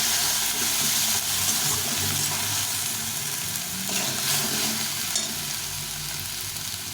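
Bottle gourd sizzles loudly with cumin powder and chili powder in a hot pan, a dense, close hiss with occasional scraping as it is stirred, no voices present.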